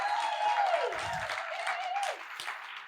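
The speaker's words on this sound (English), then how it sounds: "Can I get just a big round of applause for all the presenters" Audience applauding presenters at a Burn gathering talk session: steady, dense clapping spread across the whole stretch, fairly full and even, with a faint voice or tone briefly showing through early on.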